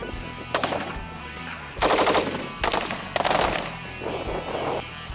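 Bursts of automatic gunfire crack out in repeated volleys at a live firing range in Afghanistan, loud and close with brief pauses between strings of rapid shots.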